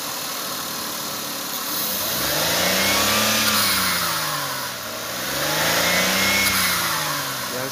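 A Maruti Suzuki Wagon R with an overheating problem revs from idle in two rising and falling sweeps, the engine heard close and steady, with no talk.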